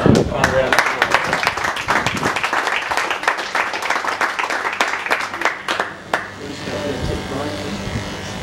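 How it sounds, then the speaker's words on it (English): A small group claps a round of applause at a Movember fundraising gathering, uneven bursts of claps that trail off, mixed with an electric shaver's buzz and people talking. "I think that's a good round of applause"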